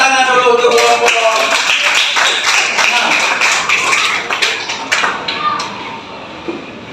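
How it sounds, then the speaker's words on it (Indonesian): Classroom applause for a presenting student group rises as dense, overlapping clapping from many hands, loud and near, thinning out toward the end with scattered claps and voices in the room. "Tepuk tangan dulu untuk kelompok 6"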